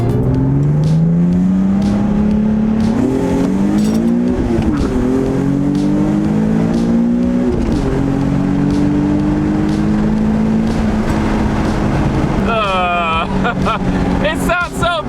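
A modified car engine pulls hard under acceleration, its loud, close drone climbing in pitch through several gear changes, with brief dips at each shift and a higher, raspier rev near the end.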